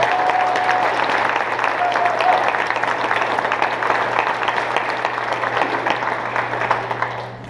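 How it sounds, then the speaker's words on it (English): An audience applauds after a march-pass performance at a parade, with a dense, sustained wash of clapping from many hands that stays loud and steady before tapering off at the end. "So let's give them a round of applause."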